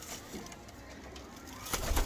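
Breeder pigeons cooing in a loft among breeding pairs, a continuous soft murmur of coos under steady background noise, rising slightly at the end.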